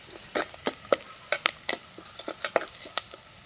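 Onions sautéing in a pan for a snail gravy: a low sizzle broken by a quick run of close spatula scrapes and taps, with no voice.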